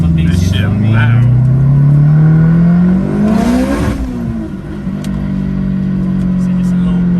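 A 500 hp turbocharged Honda S2000 accelerates hard from inside the car, its loud engine note climbing steadily for several seconds before a shift drops the pitch and the pull resumes.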